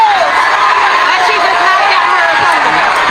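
Boxing match crowd roaring and cheering in a packed arena, a dense, loud, continuous wall of voices and whoops close around the listener without a break.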